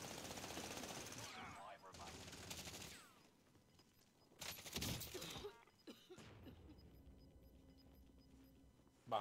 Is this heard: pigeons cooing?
no